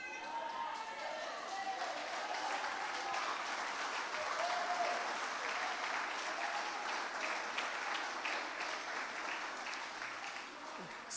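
A church congregation applauds during a sermon, sustained and moderately distant clapping that carries evenly across the room without pause.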